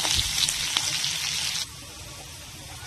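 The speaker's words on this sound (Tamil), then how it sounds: "அடுத்து நம்ம தேங்காயை ஆட் பண்ணதோட நல்லா வதக்கி விட்டுக்கலாம்." Pirandai (adamant creeper) with grated coconut sautéing in a pan gives a steady, close sizzle with stirring scrapes that drops to a quieter hiss partway through.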